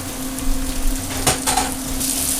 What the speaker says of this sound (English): Keep the pan nice and piping hot, and the mushrooms go right in there.